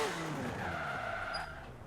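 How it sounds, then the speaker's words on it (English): Rear tyres spin to warm up on a car tuned for wheelies in Forza Horizon 4, giving a continuous close, loud screech over a steady engine drone that eases off just before the end. "So warm the rear tyres up."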